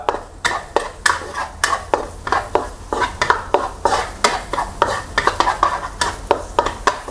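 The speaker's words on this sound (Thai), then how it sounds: "พอน้ำมันร้อนแล้วใส่กระเทียมสับลงไป เจียวให้มีกลิ่นหอมครับ" Minced garlic fries in hot vegetable oil over medium-low heat while a utensil scrapes and taps the pan in quick repeated strokes over a constant crackling sizzle, loud and close.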